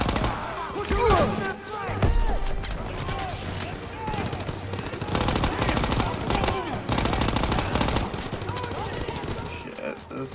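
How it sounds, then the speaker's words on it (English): Machine gun fire in a World War II video game, rapid bursts rattling close by in a fierce firefight, mixed with other gunshots and thuds, with soldiers' voices calling out over it. "MG's on the stairs."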